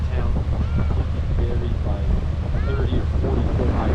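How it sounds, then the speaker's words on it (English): Steady wind and engine rumble of a tour boat crossing Upper Waterton Lake, with faint voices in the background throughout. "The boat tour took us across Upper Waterton Lake into Glacier National Park."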